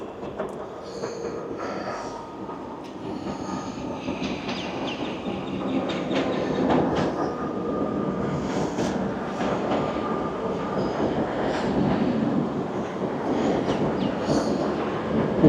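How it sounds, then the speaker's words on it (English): A V/Line country passenger train rumbles past close by, a steady broadband roar with faint clatter and wheel squeal, no voices. "It's one of the V-line trains that goes out to the country areas."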